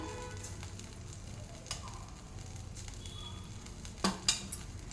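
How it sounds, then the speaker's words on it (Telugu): Cumin and mustard seeds sizzle in hot oil for tempering a cucumber chutney, a faint steady fry with a few sharp pops and clinks toward the end. "ఇప్పుడు పోపు పెట్టుకుందాము దీనికి కొంచెం ఆయిల్ వేసేసి ఇందులోనే కొంచెం జీలకర్ర ఆవాలు వేసుకోవాలి"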